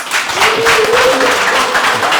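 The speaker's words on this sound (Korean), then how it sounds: "박수 보내드리겠습니다" Applause from a studio audience at a televised political talk program, a dense, steady wash of clapping that stays loud and even for a couple of seconds with no speech on top.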